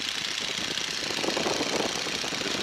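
A Stearman biplane's radial engine drones loud and steady in flight at about 1800 RPM, a constant rough roar with a faint pulsing texture filling the cockpit.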